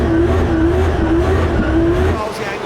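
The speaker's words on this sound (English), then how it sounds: "Into initiation, big drag on the handbrake for Falvey that sets himself up nicely." A drift car sliding sideways on a handbrake pull at a drift competition, with a loud, continuous engine roar under a sustained, wavering tire squeal throughout.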